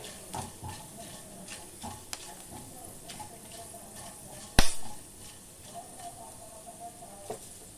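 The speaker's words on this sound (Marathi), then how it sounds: "लवंग आणि मिरी हे सर्वात प्रथम आपण भाजून घेऊया लहान गॅसवर आपल्याला हे भाजायचे" Cloves, black pepper, big cardamom and cinnamon dry-roast in a pan over a low gas flame, giving soft scattered ticks and light scraping, with one sharp clatter of the pan partway through.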